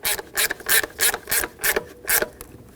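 A ratchet with a 10mm socket snugs the ignition coil mounting nuts on a 2008–2020 Dodge Grand Caravan 3.6L, giving about eight quick, evenly spaced clicking bursts up close.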